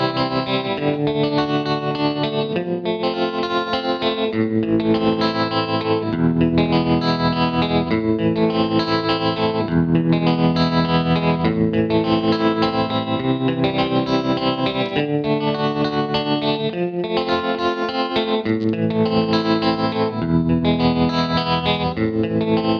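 Electric guitar run through a TC Electronic Pipeline Tap Tremolo pedal, its chords pulsing in a steady rhythmic volume throb for over twenty seconds, loud and continuous with no talking.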